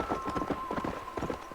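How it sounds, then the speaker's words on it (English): Horse hooves clip-clop steadily in Red Dead Redemption, a rapid rhythmic trot of close, clear hoofbeats with a faint steady tone running underneath. "Oh yeah, and the horse, I'm gonna call him Mustard."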